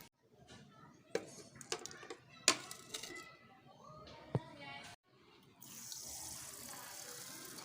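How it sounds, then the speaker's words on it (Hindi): Water is strained from soaked rice in a kitchen, with clinks and knocks of utensils first, then a steadier running-water rush near the end, all close and fairly quiet. "अब हम चावल का पानी छान कर और दोनों चीज़ों को साथ ब्लेंड कर लेंगे"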